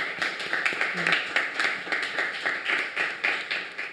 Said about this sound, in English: Let's get another round of applause for Berivan